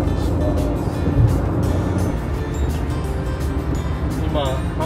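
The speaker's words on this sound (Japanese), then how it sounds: "高速道路のトンネルの中を走行しております。" A car drives through a long expressway tunnel in Osaka, Japan, giving a loud, steady engine and road roar that echoes within the enclosed space, with a faint voice partly audible.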